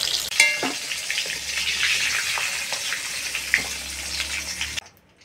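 Pieces of pointed gourd (potol) sizzle and crackle in hot oil in a pan, with a steady close frying hiss and a few stirring knocks before it cuts off abruptly near the end.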